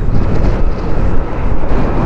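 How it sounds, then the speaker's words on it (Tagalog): Strong wind buffets a microphone during a motorcycle ride, a loud, continuous low roar of rushing air with no break. "Ang lakas ng hangin."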